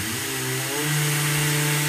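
A power sander works along the edge of a cabinet door laid flat. Its motor gives a loud, continuous whine that rises slightly in pitch, with no talking.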